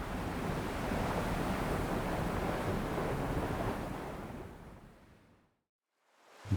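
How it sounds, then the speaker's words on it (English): Ocean waves surge and wash through a small rock sea pool at Noosa Head, Australia: a continuous, fairly close roar of surf that fades to near silence before a fresh rush starts at the end. "I can feel the waves just pushing me about"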